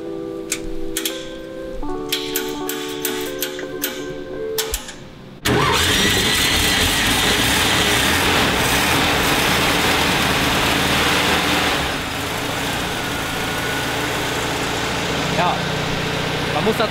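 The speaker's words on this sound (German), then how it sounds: "der Motor lief schon auf einem Prüfstand. Deswegen sprang der jetzt so gut an." Restored VW T1 Bulli engine, already run on a test bench, catches suddenly and roars loudly, then settles into a steady, rough idle close by after quieter sounds before it starts.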